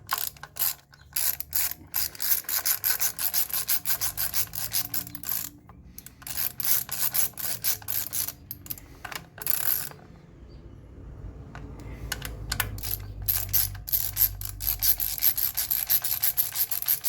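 A ratchet works on the engine of a 2008 Toyota Camry, its pawl clicking in rapid bursts that stop and start, with softer rubbing and metallic fumbling in the gaps, close up and without talk.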